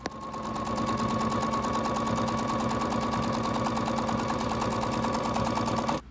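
A sewing machine quilting rag quilt blocks runs steadily and loudly for about six seconds, its rapid needle clatter continuous and close until it stops abruptly at the end.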